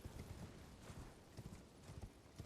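Rhythmic clip-clop of a horse's hooves at a steady gallop in the video game Elden Ring, close and fairly loud, with no voices.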